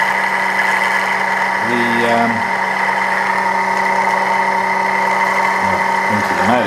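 A small electric motor powered through a PWM tap runs with a steady, loud mechanical hum and whine for the whole stretch. Brief pitched whirs rise over it, and a faint voice is heard near the end.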